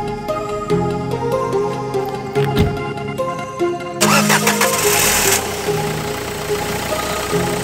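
A car engine cranks and catches, then revs up loudly and settles into a running idle, close by, with no voices.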